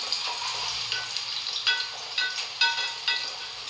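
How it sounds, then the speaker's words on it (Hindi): A medium onion frying in a little oil with a bay leaf and a small cinnamon stick, a close steady sizzle with rhythmic stirring scrapes every half second or so, no talk. "ये प्याज फ्राई हो रही है हमारी"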